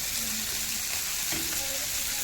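Loud, close sizzling of food frying in a hot pan, a continuous crackling hiss with faint scraping and no clear talk over it.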